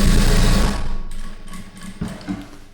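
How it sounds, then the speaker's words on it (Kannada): A sewing machine stitches in a steady rapid whir, loud at first, then stops and restarts in short bursts, heard close with no talk. "ಹೊಲಿಗೆ ನಾನು ಯಾವ ಸೈಡ್ ಹಾಕ್ತಾಯಿದ್ದೀನಿ, ಎಲ್ಲಿ ಹೊಲಿಗೆ ಹಾಕ್ತಾಯಿದ್ದೀನಿ ಅನ್ನೋದು"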